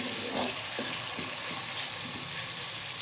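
Chopped tomatoes sizzle in hot oil with golden-browned onions, a steady close frying hiss broken by the soft repeated scrape of a spoon stirring through the pan.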